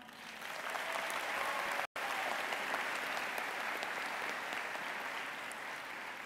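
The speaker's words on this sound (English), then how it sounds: "Another round of applause." Sustained applause from the audience at a winter commencement ceremony for social work graduates, steady and dense from start to end, with one very brief dropout partway through.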